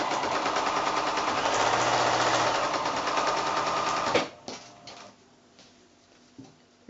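A sewing machine runs fast and steady for about four seconds, stitching quilt fabric strips at a quarter-inch seam, then stops, leaving a few faint handling clicks.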